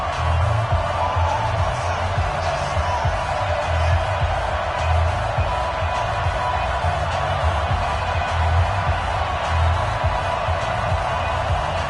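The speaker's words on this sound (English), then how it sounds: "This crowd is ready as their guys get set to match up between the Jacksonville Jaguars and the Tennessee Titans." Stadium crowd noise in an EA Sports NFL video game for Jacksonville Jaguars versus Tennessee Titans, a steady roaring murmur with faint cheers and a low rhythmic thumping underneath.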